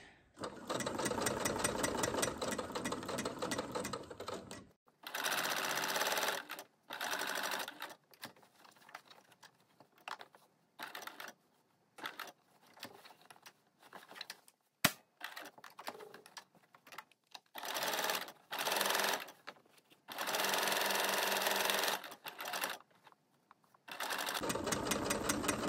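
A sewing machine stitches elastic shirring into fabric in loud, rapid bursts separated by short pauses and quiet handling sounds, with no talking.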